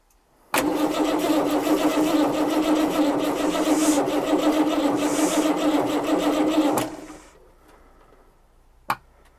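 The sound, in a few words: abandoned Dodge truck engine starting with starter motor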